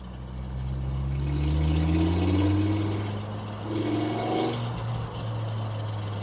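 A Mk2 GTI with a swapped-in 5-cylinder engine drives down the road, its droning engine note rising and falling through gear changes, steady and close inside the cabin.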